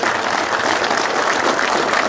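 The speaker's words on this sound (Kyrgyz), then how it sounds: "мүмкүн болсо кол чаап коштуңуздар" Men at a friendship gathering of an Alay district class of 1992 break into brief, dense, even applause, loud and close with no talking over it.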